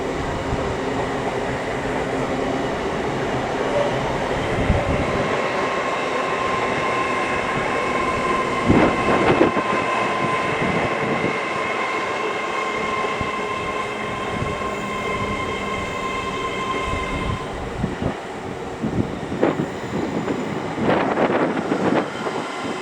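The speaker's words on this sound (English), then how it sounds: "our very last train of today's session is going to be the 1619 1 Sierra 20 LNER service from London King's Cross to Edinburgh Waverley" An LNER Class 801 train moves through York station, with a continuous rumble and rail noise, faint squealing tones, clattering wheel beats and some wind noise, all lasting over twenty seconds.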